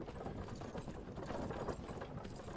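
Hooves clip-clop steadily as a horse pulls a cart through the open world of the video game Myth of Empires, the rhythmic footfalls close and continuous over a busy game soundscape.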